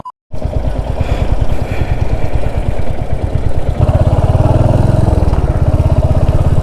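Motorcycles, two bikes carrying three riders, heading back to Bangalore from Munnar, rumble steadily and loudly up close with a continuous pulsing engine drone that thickens partway through.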